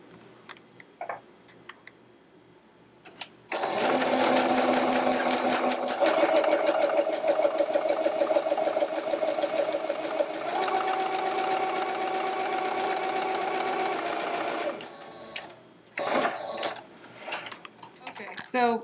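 Sewing machine stitching fabric for a ruffled clutch wallet, a steady rapid mechanical chatter running about eleven seconds at close range, with quieter handling clicks and movement before and after.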